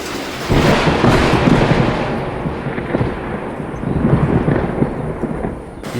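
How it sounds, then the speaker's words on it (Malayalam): Heavy rain pours down in a dense, steady roar, with low rumbling bursts rising and falling underneath, loud and close. "നല്ല മഴയാണ് കേട്ടോ"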